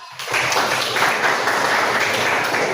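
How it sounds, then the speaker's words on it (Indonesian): A classroom of students bursts into applause, a dense, steady wash of many hands clapping close by that starts abruptly and holds for a few seconds. "tepuk tangan"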